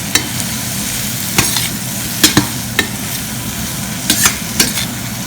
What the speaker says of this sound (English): I've added okra, so I'm going to mix them well.